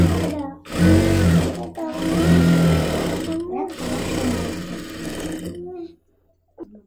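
A sewing machine runs loud and close while stitching the slit of a kurti, in bursts separated by short pauses, its motor droning with a rhythmic needle chatter, then stopping.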